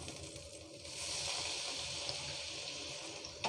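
Water poured onto a hot dosa pan while seasoning it for masala dosa, a steady hiss and sizzle that swells after a second and holds, ending in a small clatter, with no talk.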